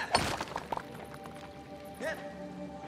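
Stone smashes under a mining tool in Fae Farm, a sharp crunching impact near the start followed by smaller knocks and a second softer hit, set over a quiet ambient game backdrop.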